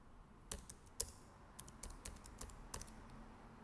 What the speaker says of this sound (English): I'll click on the space bar